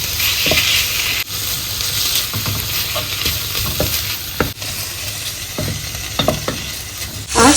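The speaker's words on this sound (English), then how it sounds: "So you see the oil in this bacon is going to come out to fry this bacon" Bacon fries in its own rendered fat with a loud, steady sizzle, broken by repeated clicks and scrapes of stirring, with no voices.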